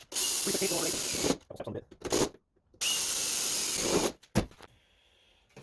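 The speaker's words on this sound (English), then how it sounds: "I'm gonna drill these holes" A power drill whines at close range in two long bursts, boring holes in metal on a 1974 Chevy K5 Blazer door striker repair, separated by brief scraping and handling noises, then trails off into quiet.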